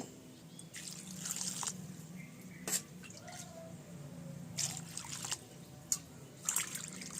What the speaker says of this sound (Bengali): চিংড়ি মাছটা প্রথমে আমি গোটা দুবার ধুয়ে নেব